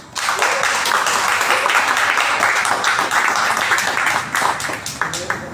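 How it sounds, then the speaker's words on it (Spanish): A church congregation breaks into loud, sustained clapping after a sermon, dense applause with sharp individual claps and a few voices mixed in, trailing off near the end. "Aplaudan pues."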